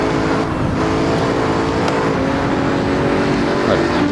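Bugatti Chiron engine in the Assetto Corsa VR racing game, a loud, continuous high-revving roar with steady engine harmonics throughout, no speech over it.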